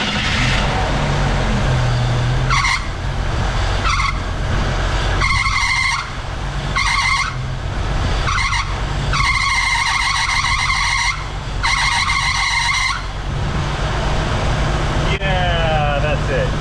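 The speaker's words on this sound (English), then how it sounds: "That alternator belt is also kind of loose." Squeal from a loose alternator belt on a classic Jeep engine, loud and close, rising in repeated bursts over the running motor, several sharp screeches separated by short dips.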